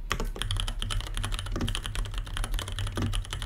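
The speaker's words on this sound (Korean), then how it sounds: "서걱서걱하고 눌리는 텍타일함" Steady, fast typing on a mechanical keyboard with tactile switches, with dense overlapping keystrokes that sound slightly muted and bumpy, heard close up with a low hum beneath.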